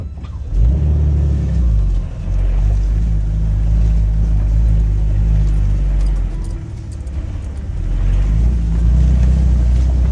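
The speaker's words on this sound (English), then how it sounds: "Sometimes you just got to give it a little gas." An off-road vehicle on a White Rock Mountain trail revs its engine to climb over a log, giving a loud, close, steady engine drone that surges and dips over several seconds, with no talking.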